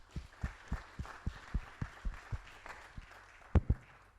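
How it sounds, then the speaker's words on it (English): A small audience at a residents' council meeting gives a round of applause, a sparse, quiet run of distinct, evenly spaced claps with a couple of louder ones near the end. "I'd like you to give a round of applause to all of you who have served as Secretary of the Resident Council in the past."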